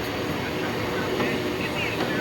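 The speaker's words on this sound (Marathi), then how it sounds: "ही ट्रेन आलेली बघा ही आली" A train pulling into a station makes a loud, continuous rumble and rush of wheels and motion that holds steady throughout, with faint crowd sounds mixed in.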